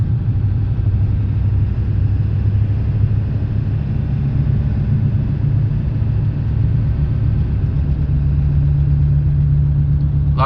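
A 1997 Ford F-250 pickup with a 7.3L Powerstroke diesel drives along, its engine giving a steady, loud, low drone and rumble heard from inside the cab, with no talk over it.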